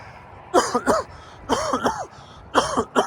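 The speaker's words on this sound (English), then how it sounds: "I still have a little bit of a cough from it" Three short, harsh coughs from a man recovering from pneumonia come in quick succession, close and fairly loud, with a throaty rasp to each.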